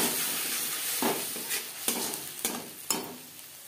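Green chili and tomato paste sizzle steadily in a hot pan, and a spoon scrapes through the mixture in several distinct strokes over the constant frying hiss.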